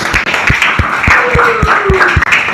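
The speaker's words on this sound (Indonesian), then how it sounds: "perayaan tepuk tangan untuk kita semuanya yang hebat." An audience at a celebration claps in applause at the close of a gathering, a loud and close run of sharp, fairly regular claps with a faint tonal sound threading through the middle.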